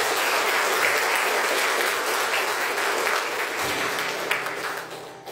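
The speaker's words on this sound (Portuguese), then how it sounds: "Mais palmas para Jesus." A congregation at a Sunday Mass in church applauds, with a loud, dense wash of clapping that thins and fades toward the end.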